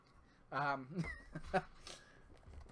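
A cat meows loudly indoors, a few drawn-out, insistent cries in quick succession that sound close by.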